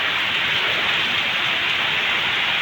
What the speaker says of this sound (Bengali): অনেক দিন পর বৃষ্টিটা হলো